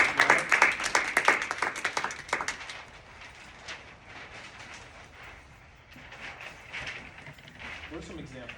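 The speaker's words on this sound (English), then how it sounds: "Clap it up for Dante." A small group in a community communication workshop claps for a participant, a burst of quick hand claps up front that thins out into scattered claps, with voices talking underneath.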